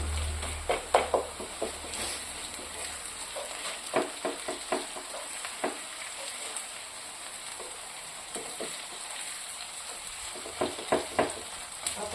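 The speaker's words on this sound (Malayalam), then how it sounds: "നല്ലതുപോലെ ഫ്രൈ ആയി വരണം." Onions fry in a pan for fried chicken biryani, with a steady close sizzle broken by repeated scraping and clinking stirring strokes in irregular bursts.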